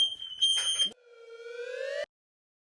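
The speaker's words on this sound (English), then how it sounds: "Even the fire alarm cheers me on." A kitchen smoke alarm beeps during cooking: a steady high electronic tone sounds under clattering and noise for about a second, then breaks off before a single long rising tone holds loud until it cuts out.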